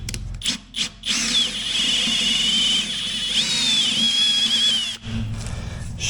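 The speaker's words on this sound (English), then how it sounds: "Now I can just drill some holes." A power drill bores holes while someone works on an old short bus: a whining motor rises in pitch and runs steadily for several seconds, close and loud, with brief pauses between runs.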